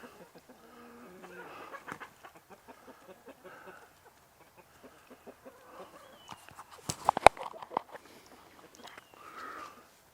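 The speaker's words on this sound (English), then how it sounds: "Old rooster acts like he brung all them greens into them chickens" Free-range chickens and an old rooster in a fall garden clucking and calling softly at close range, scattered throughout, with one louder burst of squawks and flapping near the middle.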